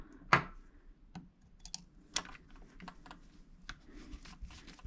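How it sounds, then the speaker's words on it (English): Small tool clicks and light metallic ticks from a screw being worked loose from a Traxxas Maxx steel RC drive shaft, several brief taps spread unevenly over a few seconds, close and fairly quiet. "Unscrew the screw out of the drive shaft right there."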